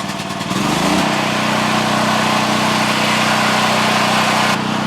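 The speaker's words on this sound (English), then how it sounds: "so we just started the generator. I'm sure you can hear it in the back" A backup generator for a barndominium, wired through a Generlink connection, cranks and catches in about a second, then settles into a loud, steady engine drone. It runs alone, with no talk.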